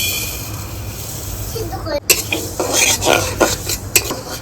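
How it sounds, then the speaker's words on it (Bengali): Moong dal is dry-roasted in an empty wok, with rustling and scraping stirring strokes and light clinks of a spoon against the metal, starting sharply partway through, close and fairly loud, with some talk in the background. "তো প্রথম আমি মুগ ডালটা খালি কড়াইতে ভেজে নেবো"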